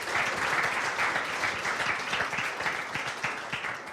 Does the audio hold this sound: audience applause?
yes